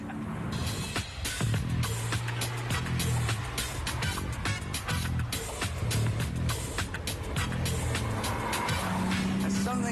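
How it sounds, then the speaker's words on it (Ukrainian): An inline-six car engine howls loudly as it revs and shifts through a manual gearbox, with tire noise and passing traffic; a voice talks over parts of it. "Щось у цьому витті рядної шістки збурює кров."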